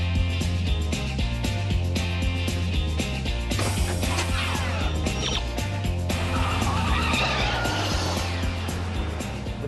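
A DeLorean from Back to the Future drives with its tires skidding. A loud, continuous screech plays over a steady, dense backing with no talk.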